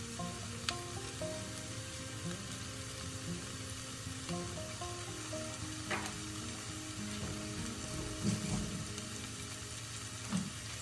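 Tomato paste frying in a pan with garlic, producing a steady close sizzle that crackles throughout, with occasional brief clinks and stirring scrapes and no talking.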